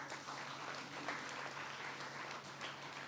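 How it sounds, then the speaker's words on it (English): Applause from a debate audience for two teams, a steady patter of many hands clapping at moderate volume, heard alone for a few seconds. "Our final round of applause for our two teams."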